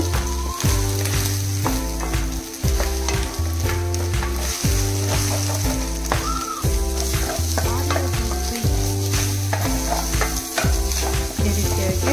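Masala rice ingredients fry in a pan, a loud continuous sizzle under rhythmic stirring, with regular scraping strokes and a steady background hum throughout.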